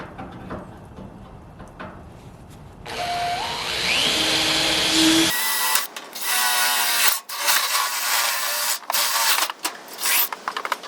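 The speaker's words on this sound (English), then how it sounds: "we're going to just go ahead and drill these totes about where the mark is" A power drill whirs loudly, its pitch rising as it bites, followed by scraping and clattering of the bit working through a hard plastic IBC tote.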